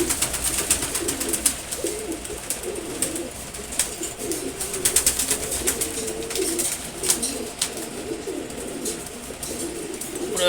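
Giribaj pigeons coo in repeated low, throaty bursts close by, with sharp clicks and rustles in a loft around them.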